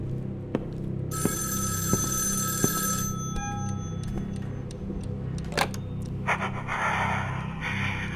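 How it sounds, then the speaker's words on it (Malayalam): A telephone rings in short electronic bursts over a steady low hum in the horror game Evil Inside, followed by a few clicks and a brief burst of noise. "അയ്യോ ഫോൺ കോൾ വന്നേ"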